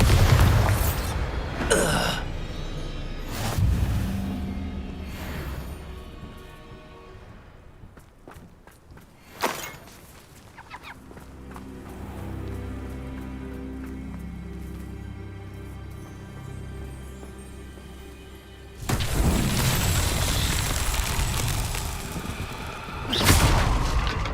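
A Bombarda spell explosion in the video game Hogwarts Legacy, heard as loud booming blasts with heavy rumble near the start and end and a sharp hit in the middle, over quieter game ambience.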